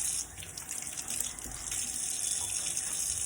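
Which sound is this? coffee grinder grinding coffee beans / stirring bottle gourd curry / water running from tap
water running from tap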